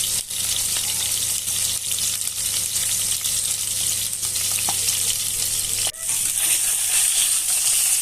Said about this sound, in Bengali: একে একে সব মাছ দিয়ে দিলাম কড়াইয়ে, দিয়ে উল্টে পাল্টে ভালো করে ভেজে নেব।